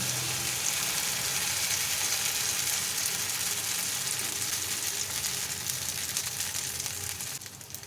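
Oats batter sizzles steadily in hot oil after a ladleful goes into the pan, a dense, even crackle that holds for several seconds and eases slightly at the end.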